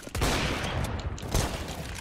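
CS:GO gunfire in a competitive match, a dense burst of rapid, loud shots and spray fire, with sharp cracks overlapping across the whole stretch.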